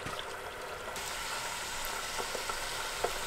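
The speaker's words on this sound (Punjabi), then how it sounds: "ਤੇਲ ਸਾਡਾ ਗਰਮ ਹੋ ਚੱਲਿਆ, ਇੱਕ ਪੀਸ ਪਾ ਕੇ ਦੇ ਲੈਂਦੇ ਹਾਂ।" A piece of mathri dough dropped into hot oil for a Punjabi namkeen snack, giving a steady broad sizzle and bubbling hiss throughout, close and continuous, with a few faint clicks near the end and no talking.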